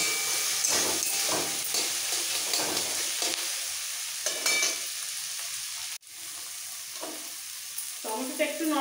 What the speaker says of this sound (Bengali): টমেটোটা নরম হওয়া পর্যন্ত একটু ভাজবো